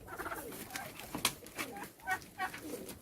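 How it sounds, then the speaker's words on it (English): A couple of pigeons in a farm enclosure in Dahab coo softly in short, repeated calls, fairly close and quiet, with no talk. "a couple of pigeons in here."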